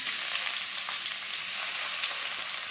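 Ridge gourd peel sizzles steadily as it is sautéed in a hot pan, giving a continuous bright frying hiss with faint stirring scrapes throughout, no voices.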